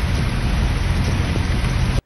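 Rain falls in a dense, steady hiss on surfaces near the listener, loud and unbroken for about two seconds before cutting off abruptly.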